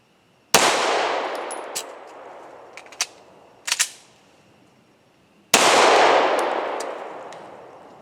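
Pistol shots fired in a dot torture drill with reloads: two loud, sharp cracks about five seconds apart with a ringing tail, separated by small metallic clicks and clatter from handling the gun and magazine, outdoors with no talking.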